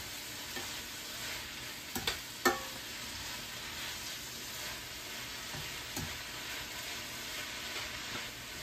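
Collard greens seasoned with salt and pepper cooking in a pan, a quiet, continuous sizzle with a few soft stirring clacks and scrapes scattered through, no voices.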